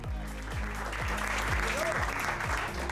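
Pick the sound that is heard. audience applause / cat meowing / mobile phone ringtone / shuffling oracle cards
audience applause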